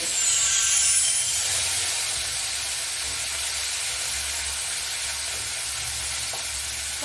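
Shrimp frying in hot mustard oil in a home kitchen, a steady close sizzle with a soft crackling hiss that holds evenly throughout, with faint stirring and no talking.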